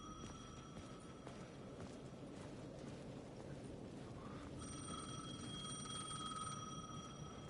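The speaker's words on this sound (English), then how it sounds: "The payphone was ringing again." A payphone rings in the Alan Wake video game, its faint, tinny bell ringing in repeated bursts over a constant layer of rainy, rushing ambient noise.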